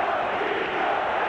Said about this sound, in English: Crowd chanting Dino Cicerelli.